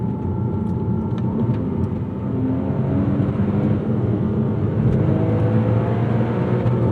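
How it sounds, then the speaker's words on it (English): A 2007 Porsche Cayman S (987.1) flat-six engine in stock form howls at high revs toward its 7,100 RPM limit, a smooth sustained wail close by, rising slightly in pitch as it pulls. "the Porsche howl from that flat six"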